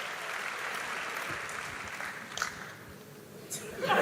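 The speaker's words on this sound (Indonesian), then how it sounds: "Let's give a great hand to the guys" Audience applause at a teen church service, a steady wash of clapping kept at a moderate distance that holds for several seconds and then swells again near the end, with no words spoken over it.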